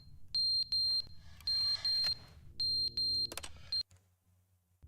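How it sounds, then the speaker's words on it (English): An alarm goes off inside The Stanley Parable video game: shrill, piercing beeps in repeated pulses, some in quick pairs, over a low rumbling background, then cutting out abruptly near the end. "The alarm's gone off."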